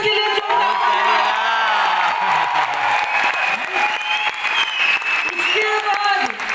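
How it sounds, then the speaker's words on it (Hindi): A large audience at a direct-selling company event claps loudly and continuously, with cheering, whoops and shouts mixed in and voices rising over the steady applause. "जोरदार तालियां"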